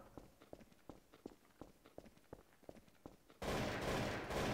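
Rapid gunfire in the video game Trouble in Terrorist Town, a quick run of sharp shots ending in a loud, dense burst of fire, heard close with no talking.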